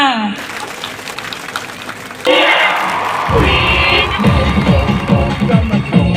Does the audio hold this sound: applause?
yes